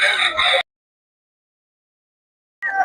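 A short burst of chicken clucking and crowing, fairly loud, then a long silence before another brief burst of poultry noise.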